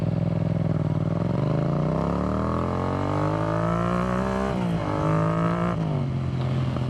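Yamaha MT-07 motorcycle fitted with an Akrapovic carbon exhaust with the baffle removed, revving loudly and close up, its deep harmonic engine note climbing and falling through several throttle blips with no one talking.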